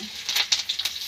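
Curry leaves drop into hot oil for a Marathi dal kanda, giving a brief burst of sharp sizzling with several quick spitting crackles over about a second.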